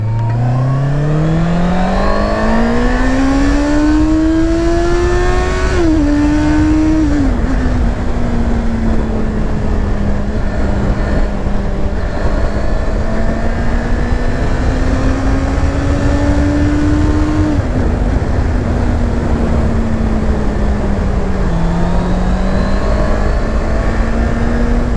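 A 2020 Honda CBR 650R sport motorcycle being ridden, its engine loud and close, climbing through the revs with shifts between gears and then holding a steady drone under strong wind noise, with no talk.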